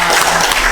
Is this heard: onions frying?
no